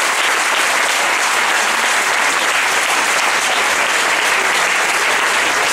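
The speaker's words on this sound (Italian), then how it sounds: "proporrei il primo grande applauso." An audience at a local political gathering in Italy breaks into loud, dense, sustained clapping that fills the whole stretch without pause.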